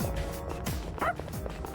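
The dog Koromaru from the video game Persona 3 Reload gives a few short, yipping barks amid light game sounds, close and moderate in volume.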